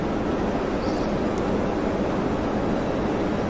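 Simulated cockpit of a PMDG 737-900 airliner in Microsoft Flight Simulator X: a constant, even rush of wind noise that fills the cabin with no change in level.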